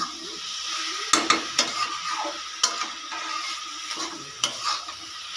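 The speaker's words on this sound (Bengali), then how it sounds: "এবার আমি শাকটাকে বারবার নাড়াচাড়া করে ভাজা ভাজা করে নেব" Steady sizzling of grass pea greens frying in a pan, punctuated by sharp scraping clinks of a utensil stirring against the metal, no voices.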